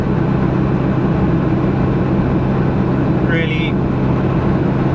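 A Jeep Cherokee XJ with a 2.5 TD turbodiesel and Garrett GT2052 turbo cruises at 2,000 RPM and 80 km/h, a steady, loud low drone filling the cabin throughout, with a brief higher chirp near the end.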